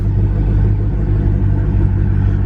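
A Dodge Charger Hellcat with catless midpipes rumbles with a loud, deep, steady engine drone at close range, the low throb holding even with no talk.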